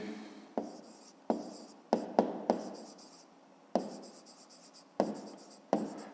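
A pen writes on paper in a string of short scratching strokes, each starting sharply and trailing off, close and quiet, at an uneven pace.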